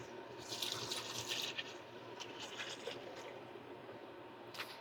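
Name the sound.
water being poured into a pot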